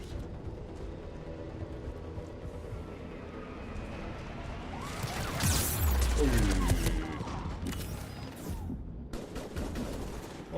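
Automatic turret gunfire during a Mass Effect 3 firefight, bursts of shots and mechanical clatter rising to a loud peak midway through a dense, busy battle mix with a voice talking over it.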